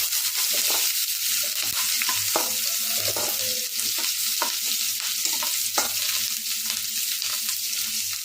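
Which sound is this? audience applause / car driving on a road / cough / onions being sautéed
onions being sautéed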